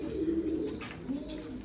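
Soft, close cooing from a female Teddy pigeon, a low throaty murmur rolling on steadily for under two seconds with no talk over it.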